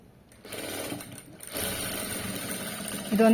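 A sewing machine runs in short starts and then a steady whirring run while stitching a long frock, close and fairly loud. Some talk accompanies it.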